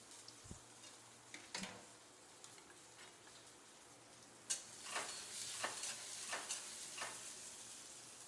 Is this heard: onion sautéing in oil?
yes